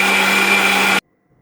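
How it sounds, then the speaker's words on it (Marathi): A kitchen mixer grinder whirs loudly, grinding curry masala for a Goan mackerel curry, a steady high motor whine that runs for about a second and then cuts off abruptly into silence. "मागीर घालपाचें उदक आनी सोमती लावपाची मिक्सरार."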